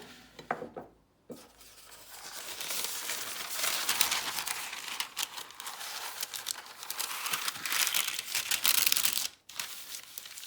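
Parchment paper crinkles and rustles steadily as it is laid down in a kitchen while baking pumpkin pie, a dense close crackle running through most of the stretch with a brief pause near the start and end.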